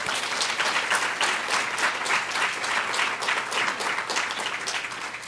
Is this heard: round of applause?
yes